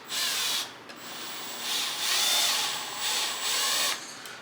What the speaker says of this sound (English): Of course, you could do this by hand, but it's just quicker with the cordless drill